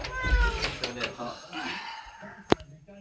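A kitten meows a few times close by amid splashing and handling noises while being washed, with a sharp clack near the end.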